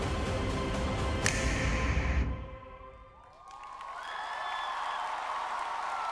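A convention audience at a Japan Expo cosplay show applauds and cheers after a Thanos performance, loud dense clapping that drops away, then a softer round of clapping and scattered cheers resumes.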